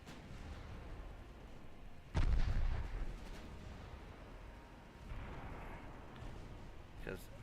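Naval artillery fire in the video game Ultimate Admiral Dreadnoughts: a single heavy boom rises out of a quiet, low background, followed by softer rumbling.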